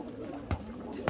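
A 12-tailed pigeon kept for flying gives low, soft cooing, a steady murmuring drone with brief louder pulses, faint and close.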